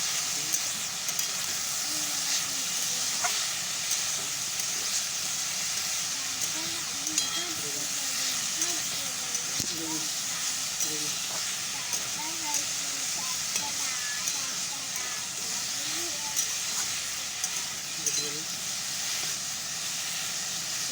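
Pointed gourd, chickpeas and onions fry together in a pan with a steady soft sizzle and hiss, faint clinks of stirring scattered through, fairly quiet and continuous.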